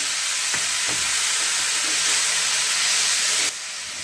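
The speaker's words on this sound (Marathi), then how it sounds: "आता यामध्ये मी हे टाकून घेते मेथी चिरलेली मेथी" Chopped fenugreek leaves hit hot oil for a dhaba-style garlic methi dish, setting off a loud, steady frying hiss with a few clicks early on. The sizzle eases slightly near the end.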